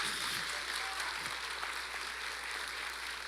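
A church congregation applauds during a sermon, a steady wash of clapping that holds at an even level throughout, with no voices over it.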